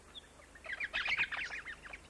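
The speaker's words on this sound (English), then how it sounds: "Of all the world's songbirds, the male lyrebird is perhaps the greatest." A male lyrebird in an Australian rainforest sings a quick burst of bright, varied warbling notes, moderately close and alone against a faint background hum.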